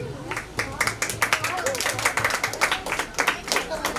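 Students clap at a Dr. Ambedkar Jayanti event for a drawing competition winner, a fairly close burst of rapid, uneven hand claps that runs through the whole span, with voices talking underneath.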